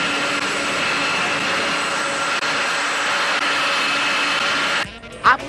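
Jet aircraft at an airport in a Hindi comedy film scene gives a loud, continuous engine roar that holds steady, then drops away near the end as a brief voice cuts in.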